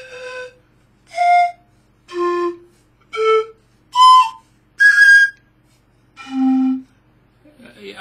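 A pan flute blown across the top of its pipes plays seven separate clear, whistle-like notes, each held briefly with short silences between them, close and alone with no talking.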